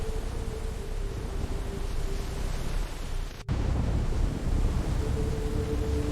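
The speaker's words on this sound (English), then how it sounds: "A storm detonates across the Bering Sea." Storm on the Bering Sea with heavy surf and strong wind, a loud continuous roar of waves and gusts with a brief dropout midway, then the rumbling wash resumes.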